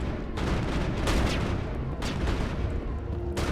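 Sustained gunfire against an unkillable rogue turret in the video game Mass Effect, set on Noveria: a dense, continuous wash of shots with periodic louder bursts, close and loud throughout.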